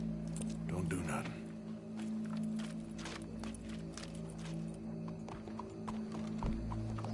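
A horse in the Red Dead Redemption 2 video game clip-clops at a walk with a brief whinny, hooves close and clear beneath game music and dialogue.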